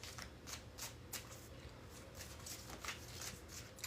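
Tarot cards being shuffled by hand, a steady run of crisp riffling and flicking bursts repeating close to the microphone, with no talk over them.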